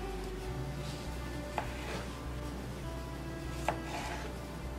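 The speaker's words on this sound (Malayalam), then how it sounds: "അതും ഇതുപോലെ സ്ക്വയർ ആയിട്ട് നമ്മൾക്ക് കട്ട് ചെയ്തെടുക്കാം." A knife chops medium tomatoes into square pieces on a board in a home kitchen, two sharp taps standing out over a steady low background with no talk.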